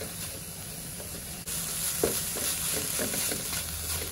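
Beetroot poriyal with a small handful of grated coconut gets stirred in a hot pan, a soft continuous sizzle with scattered scraping and tapping of the spoon, close and fairly quiet with no speech.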